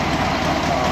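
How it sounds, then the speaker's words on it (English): A steady Volkswagen Beetle engine drone runs without a break, a low rumbling idle with a rough, even texture and no voices over it. "I'm not sure I love how this engine sounds"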